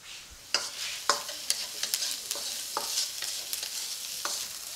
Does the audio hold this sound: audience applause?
no